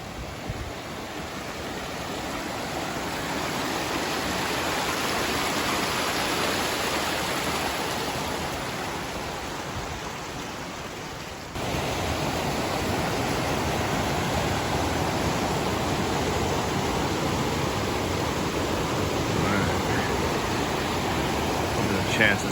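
Continuous rushing of a mountain creek in the Great Smoky Mountains in winter, a broad steady water roar heard from some distance above, with a brief dip midway and no talk.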